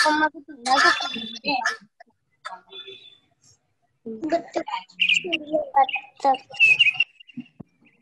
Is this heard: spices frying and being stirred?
no